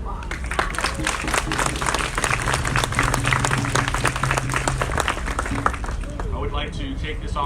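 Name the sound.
audience applause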